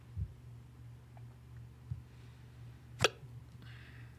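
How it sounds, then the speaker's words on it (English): Hiccups from a man at a microphone, a few sharp isolated bursts spread out over a steady low electrical hum, the loudest one near the end, with no talking between them. "I do apologize for the hiccups,"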